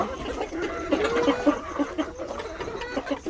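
Farm chickens scuffle and fight, giving a run of close, repeated clucks and squawks over a busy outdoor background.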